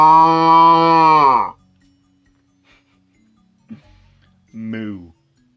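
A human voice imitates a cow, giving one long, loud, drawn-out moo, followed by quiet pauses and a shorter second moo near the end.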